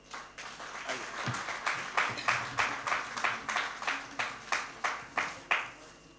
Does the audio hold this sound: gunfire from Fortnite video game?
no